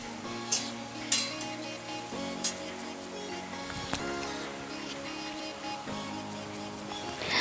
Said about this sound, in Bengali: আলুটা আমি একদম লাল করে ভেজে নেব, যাতে আলুটা ভেতরে সেদ্ধ হয়ে যায়।